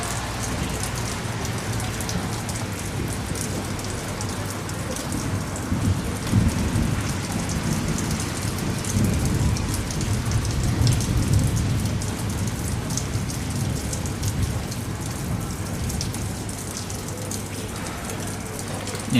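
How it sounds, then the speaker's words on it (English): Steady rain during a thunderstorm over Oxford, with thunder rumbling in the distance, swelling and fading over a continuous downpour; no talking. "Actually I still can hear thunder."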